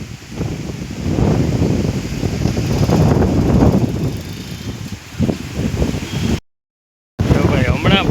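Strong wind blows across a microphone outdoors in a village, a loud rumbling roar with gusty buffeting that briefly cuts out, with a voice faintly underneath.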